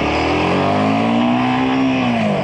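A Royal Enfield Himalayan 450 motorcycle pulls hard in first gear, its engine note climbing steadily and then easing off near the end, loud and close throughout with no voices.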